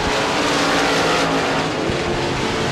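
Modified race cars roar around the Devils Bowl Speedway dirt oval in a dense, loud, continuous engine drone, several cars blending together at close range without a break.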